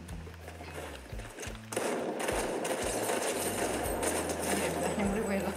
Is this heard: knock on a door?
no